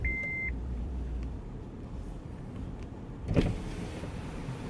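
A car's power window hums steadily down at a Scotts Valley, Santa Cruz car wash, partly covered by the wash's constant rumble. A short electronic beep sounds at the start, and a dull thump comes midway.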